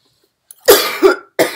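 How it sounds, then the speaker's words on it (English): A couple of harsh, close coughs in quick succession after a brief silence, followed by another cough. "I just had a coughing fit."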